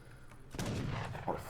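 Cannons (falconets) firing in an Age of Empires III tournament match: a sudden loud booming blast rises from near silence about a third of the way in, followed by sustained rumbling battle noise and a second heavier thud near the end.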